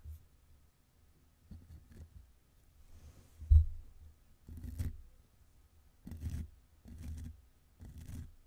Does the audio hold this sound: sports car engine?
no